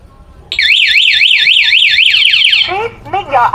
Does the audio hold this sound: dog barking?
no